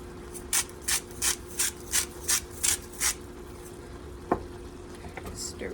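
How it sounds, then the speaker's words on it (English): Greens and rice stirred in a pot, giving eight evenly spaced scraping strokes in a steady rhythm, close and moderately loud, followed by a single knock and a few faint scrapes. "Stir it up."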